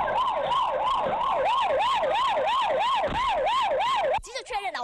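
A police car siren wails in steady, loud rising-and-falling cycles during a street chase of a suspect in Dajia, Taichung, cutting off abruptly near the end into a short burst of sharper noise.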